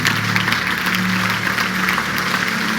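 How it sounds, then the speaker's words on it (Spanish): A church congregation gives loud, sustained applause at the end of a sermon, a dense wash of many hands clapping with no single claps standing out, heard from within the room. "Dale un aplauso fuerte al Señor."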